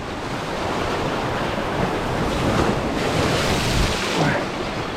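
Ocean surf on a Florida beach, a current running down the shore and washing over rocks. It makes a steady, loud rushing wash that swells slightly, with wind buffeting the microphone throughout.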